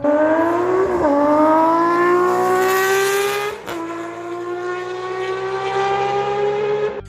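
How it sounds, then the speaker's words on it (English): Inline-six motorcycle engine revving loud and close, a smooth high-pitched wail climbing steadily, dipping briefly between pulls and then rising again, with no talk. "The Inline-6 is glorious and necessary. It's wide, it's heavy, and sounds less like a motorcycle and more like Formula 1 car."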